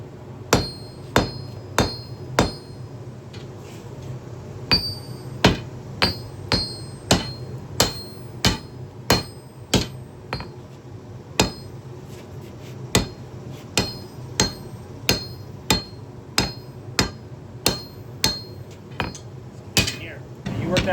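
Hammer blows strike metal at a forge while a log splitter is worked into a sword. Dozens of sharp, ringing impacts fall in an uneven, fairly quick rhythm with brief pauses, over a low background hum.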